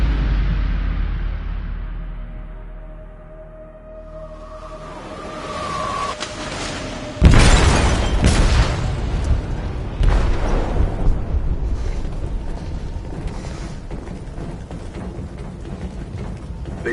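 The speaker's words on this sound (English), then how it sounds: "They detonated an explosive in the hold" A video-game explosive blasts inside a ship's hold: a sudden loud broadband boom at about seven seconds, then sustained rumbling and crashing debris, with a second heavy hit near ten seconds and a faint rising whine before the blast.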